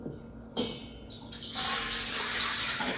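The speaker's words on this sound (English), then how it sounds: "I always put the water in first" Water poured into a mixing bowl as the first ingredient for kneaded bread dough, a steady splashing pour that starts abruptly and runs on, close by and fairly loud.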